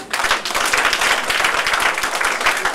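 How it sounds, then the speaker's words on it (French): Guests at a civil wedding ceremony applaud as a document is handed over, a brisk, close burst of many clapping hands filling the room. "de recevoir le document sous les applaudissements de l'assistance"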